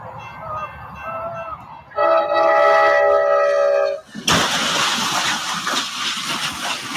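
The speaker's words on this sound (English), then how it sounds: "Here comes the train." A train rolls in toward a rig stuck on the tracks, its horn blaring in a long, loud multi-tone blast, then cutting off into a roaring, hissing rush of noise.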